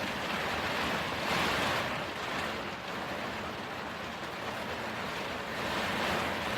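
Heavy rain pours outside a cabin during a two-day storm, a dense, steady roar with gentle swells in intensity and no voices.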